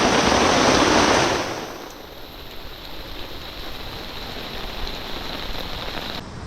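Steady rain hissing down, heavier and louder for the first two seconds, then settling into a softer, continuous patter with no voices.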